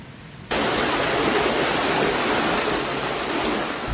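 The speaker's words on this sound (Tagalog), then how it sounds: "Ang malakas na agos ng tubig, tuluyang pinasok ang ilang bahay." Strong floodwater current from overnight flooding in a town in Cotabato rushes in a steady, loud, broadband roar that starts abruptly and continues unbroken, with no talk.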